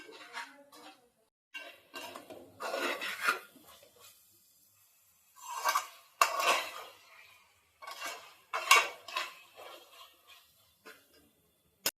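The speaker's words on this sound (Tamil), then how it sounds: "அந்த மசாலாவெல்லாம் கலந்து விடுவோம்." Mutton masala being stirred in a cooking pot, heard as intermittent scraping and clinking bursts of a spoon against the metal, close, with quiet pauses between strokes.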